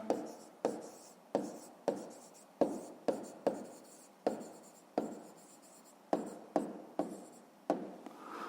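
A maths solution for a fifth-grade rectangle area problem being written by hand, with repeated pen strokes scratching on paper in short rhythmic bursts, close and quiet.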